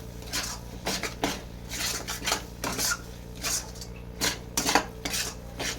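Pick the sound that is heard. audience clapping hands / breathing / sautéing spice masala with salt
sautéing spice masala with salt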